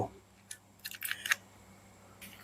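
Magnetic brake adjuster on a scuffed, left-hand Daiwa Tatula baitcasting reel being turned: a lone click, then a quick cluster of crisp ratcheting clicks, and one more click a moment later, close up over a quiet background.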